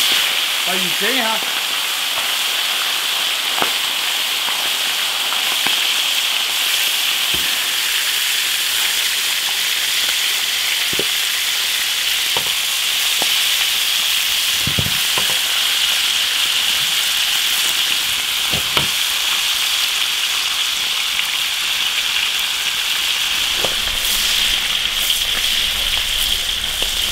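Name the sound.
frying yellow catfish in an iron wok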